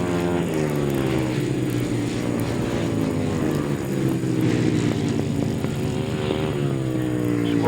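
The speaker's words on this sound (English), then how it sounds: "Squirting that throttle hard, making the machine work." Grasstrack racing motorcycles at a 2011 meeting drone loudly and continuously, their engines revving hard and blending into one sustained roar with a rising throttle pitch near the end. No one speaks.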